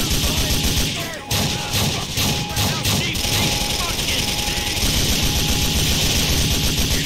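Gunfire in GTA 4 Episodes From Liberty City, with dense, continuous shooting and chaotic crashes filling the scene, loud and close, while people shout over it.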